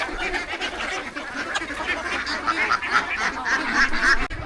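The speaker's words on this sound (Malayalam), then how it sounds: "ഇവിടെ ഒരു വാത്തക്കുട്ടി അടയിരിക്കുന്നുണ്ട്." A flock of domestic geese on a rural homestead honk and cackle almost nonstop, loud and close, with overlapping calls and rustling.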